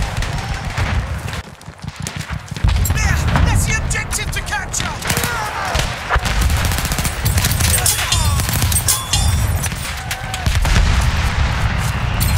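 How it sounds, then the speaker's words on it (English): Rapid machine-gun bursts and scattered gunfire rattle in a Battlefield 1 match, loud and close, with dense overlapping shots and booms running almost nonstop. "Machine gun over there!"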